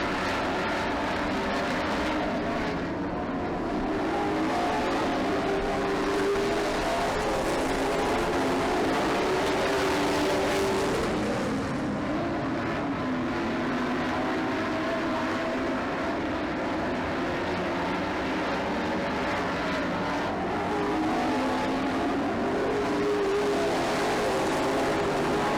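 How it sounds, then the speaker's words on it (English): Race cars circling a short track during a feature race, engines droning steadily at a distance throughout, rising and falling as the pack passes, with no speech over it. "Tyler Kulo putting a little distance on that 2nd place car of Pagel"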